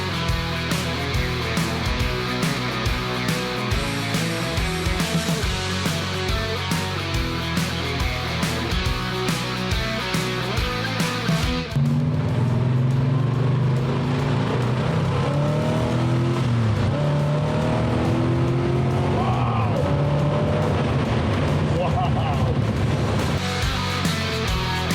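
An AMC American muscle car drives with a loud, rumbling engine, steady at first and then shifting into rising acceleration and revving, close and continuous with no voices.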